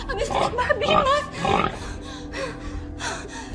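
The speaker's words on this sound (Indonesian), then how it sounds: "Kok aku terus-terusan ya dengar suara babi?" Pig grunts and snorts come in a run of short, breathy bursts at moderate loudness, fading toward the end, in a domestic drama setting.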